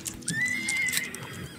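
Horse neighing in the Roblox Wild West game, a clear rising whinny lasting about a second over faint clip-clopping hooves and game background noise, no talking.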